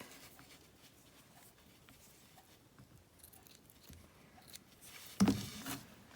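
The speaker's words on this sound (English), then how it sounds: "what I like to do is then I cut the ends of those off" Scissors make a single loud snip near the end, cutting the loose ends off a paper tassel for a stamped tag card, after a quiet stretch of faint rustling.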